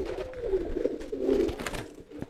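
Racing pigeons bought at a market coo steadily in low, rolling pulses, close by and fairly loud, with no talking over them.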